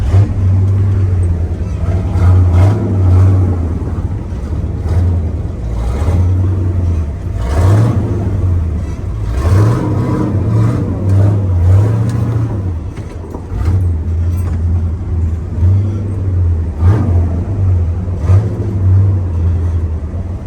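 A car engine revs hard and roars continuously during a burnout, rising and falling in pitch with loud rumbling and whirring, close by.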